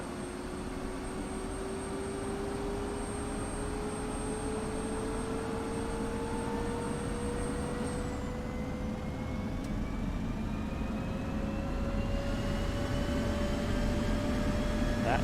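An F-16 jet engine in the DCS flight simulator spools up, a steady close whine climbing slowly in pitch over a continuous rushing roar that stays loud throughout.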